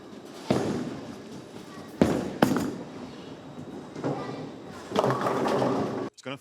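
Inside a bowling alley during league coaching, a ball rolls down the lane and crashes into the pins, giving several sharp, loud impacts over a steady rumbling din of lanes and background chatter.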